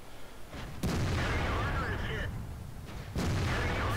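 Tank cannon fire in World of Tanks, with two heavy booming shots about two seconds apart under a constant low engine rumble and some talk.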